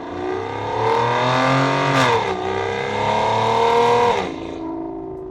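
A 2007 Aston Martin DB9 V12 with a modified exhaust revs hard and close, the engine note climbing, dipping and swelling again in a sustained, loud snarl with no talking.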